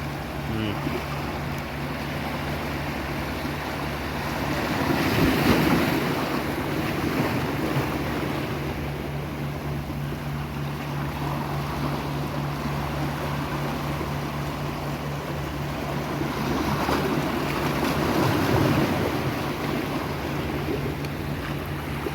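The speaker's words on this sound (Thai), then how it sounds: "เป็นธรรมชาติของน้ำทะเลมันมีคลื่นมา" Sea waves roll onto a shore while wind buffets the microphone, a steady, loud wash with swells building and easing twice, alone without voices.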